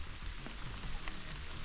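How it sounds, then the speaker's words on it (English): Heavy rain falls outdoors during a stag-hunting outing in a steady, dense hiss that lasts throughout, with no voices. "It's pissing it down with rain"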